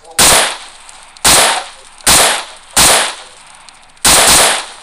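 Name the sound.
gunfire in PUBG video game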